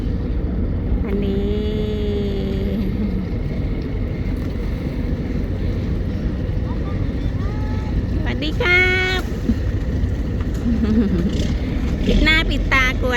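Motorboats running side by side on the water, a steady engine drone with wind buffeting the microphone, while someone narrates in Thai over the top.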